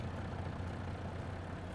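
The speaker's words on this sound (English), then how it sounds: "We got everything idling away, burning fuel." Heavy logging vehicle engines idling in a farming video game's forest, a steady low diesel drone with an even rumble, moderately quiet and without talk.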